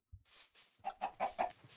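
Chickens in the video game Minecraft give a short run of about four or five close, distinct clucks after a brief soft thump, with no speech.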